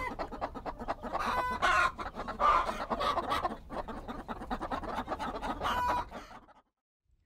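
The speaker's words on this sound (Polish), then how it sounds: "Tam się pasie kura." A chicken clucks steadily while foraging by a bush outdoors, with busy, slightly distant bird chatter continuing for several seconds before fading out.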